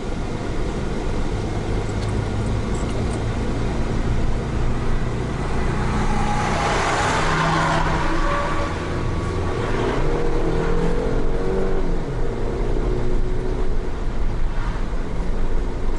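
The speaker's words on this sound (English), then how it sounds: "we got into a 2019 F-250" A 2019 Ford F-250 pickup truck engine drones steadily while driving, with continuous road and engine noise that swells slightly as it accelerates, no voices over it.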